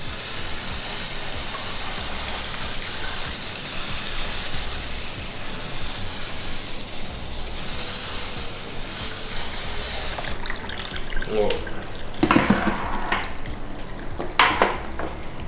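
Continuous hissing wash of water as moss is rinsed in a basin, steady and close, followed by a few splashes and clinks near the end.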